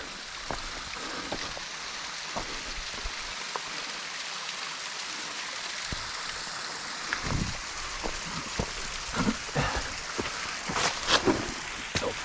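Water spills steadily over a waterfall on the San Gabriel River, a constant hiss of falling water with scattered splashes and knocks nearby, growing a little busier toward the end, no one speaking.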